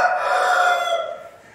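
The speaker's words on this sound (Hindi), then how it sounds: "मुर्गा हमारा बोलता रहता है" A rooster crows once, a loud, close, drawn-out cock-a-doodle-doo that fades at the end, heard alone outdoors beside a jade plant being staked.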